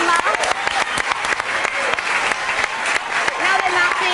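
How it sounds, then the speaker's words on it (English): A group of people applauds a rickshaw challenge rider as he finishes his first day, with close, uneven clapping and excited voices and cheers throughout. "Round of applause, everyone."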